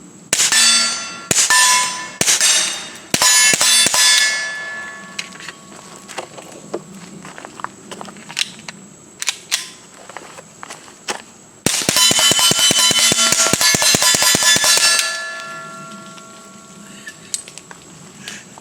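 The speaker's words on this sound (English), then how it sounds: "Just kind of got to shoot through the suppressor." Suppressed KelTec P17 pistol firing outdoors, a series of sharp metallic cracks in quick strings, several spaced shots then a rapid burst of about a dozen, loud and close with ringing tails, no talk.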